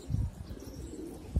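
Pigeons coo softly in a low, murmuring tone, a few faint calls close together with no voices over them.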